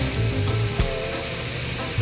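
Squid adobo sizzling in a pan as oyster sauce goes in: a steady, close frying hiss with faint tonal whines and one brief knock, with no talking.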